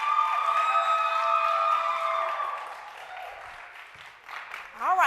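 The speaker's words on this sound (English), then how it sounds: "Give them a hand clap as they come down this way." Audience applause and scattered cheering at an HIV/AIDS awareness event, sustained for a few seconds with tonal music or electronic tones ringing over it, then tapering, with a brief voice at the end.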